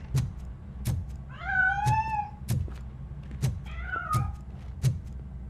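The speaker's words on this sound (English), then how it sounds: "That cat must be hiding inside." A cat meows twice, a rising wavering call, from inside a piano in the RoboCop Rogue City video game, over steady regular thumping beats of game ambience.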